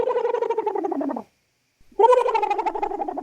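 A person imitates a bird call with two warbling, gargly vocal bursts separated by a short silence, loud and close during a Minecraft mayoral election roleplay.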